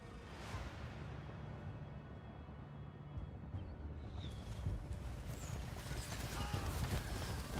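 Horses gallop across a battlefield in Total War: Pharaoh, a dense low rumble of hooves mixed with battle ambience that swells louder toward the end, with no talk over it.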